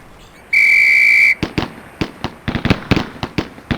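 In Police Quest: SWAT, a shooting-range drill whistle sounds one steady, shrill blast of under a second, followed by a rapid string of sharp gunshots.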